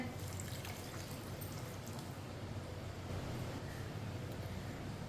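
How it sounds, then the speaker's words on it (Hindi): Two cups of water poured into a pan holding semolina for suji halwa, giving a steady, continuous rushing splash that stays at an even level throughout, with no talking. "ये मैंने 2 प्याली पानी डाल लिया।"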